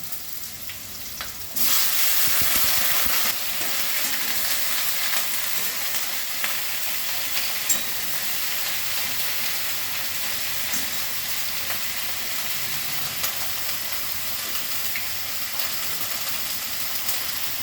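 Ridge gourd pieces drop into a hot pan and fry with a loud burst of sizzling that settles into a steady, continuous hiss with occasional faint stirring.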